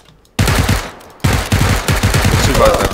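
Video game gunfire in a hide-and-seek match cracks out as loud, close bursts of rapid automatic shots that fill the clip after a brief quiet start.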